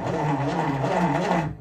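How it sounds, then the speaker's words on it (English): A milling machine's horizontal power feed runs with its spur gear teeth not properly engaged, producing a continuous rough mechanical grinding whir. The noise is close and steady and cuts off at the end. "That sound you hear is an indicator that I do not quite have the teeth engaged properly"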